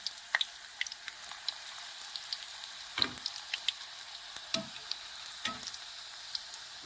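Onion bhaji frying in hot oil, a steady soft sizzle with scattered crackles and pops throughout, fairly quiet and with no voices.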